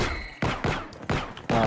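Gunfire in an Unreal Engine video game prototype: four sharp bursts of shots in fairly regular succession, loud and close, with no talk over them.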